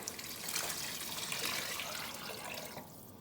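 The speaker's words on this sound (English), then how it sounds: "I am gonna start to add my liquids, so I'm just gonna start off with some water." Water pours steadily into a beef stew pot on the stove, a continuous close splashing rush that tapers slightly near the end, with no voices.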